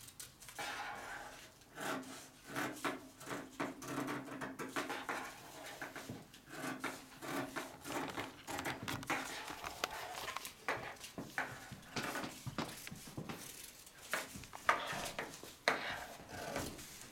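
Scissors cut through folded paper during a craft demonstration, making a steady run of close, scratchy rasping snips and rubs with short pauses between strokes, with no talking over them.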